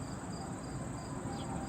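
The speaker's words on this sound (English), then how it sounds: "That cricket though." A cricket chirps in a steady, continuous trill outdoors among trees at an amusement park, moderately close, with no talking over it.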